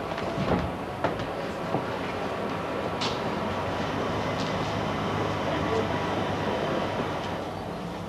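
A London tube train at the Island Gardens end of the line gives a moderate, steady rail rumble with a few sharp clanks and squeaks near the start, heard fairly close with no clear talk over it.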